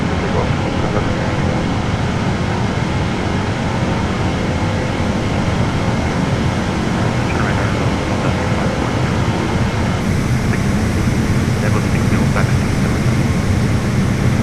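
An Airbus A380 in Microsoft Flight Simulator 2020 departs Frankfurt, its engines a loud, continuous broadband roar that holds steady, shifting slightly in tone partway through, with no talk.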